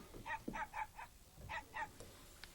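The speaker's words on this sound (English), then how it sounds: "Hey, shut up the dog!" A dog barking in a house, several sharp, close barks in quick pairs, faint and a little muffled, with a pause between the bursts.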